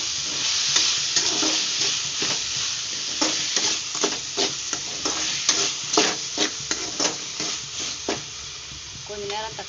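Tomatoes sizzle in hot oil for a fish curry while a spoon stirs them in repeated scraping strokes against the pan, a steady close frying hiss with rhythmic scrapes and no talking.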